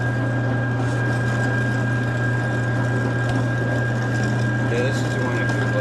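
Meat grinder running steadily while processing bear meat, a constant mechanical hum and whir throughout with faint clatter; a person talks at times in the background.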